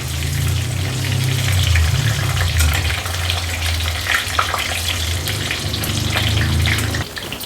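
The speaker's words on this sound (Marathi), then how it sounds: "आता व्यवस्थित हा आपल्याला ना डीप फ्राय करून घ्यायचे।" Raw jackfruit pieces deep frying in hot oil in a wok: a loud, steady, close bubbling sizzle with a low rumble underneath, continuing without pause until it eases off near the end.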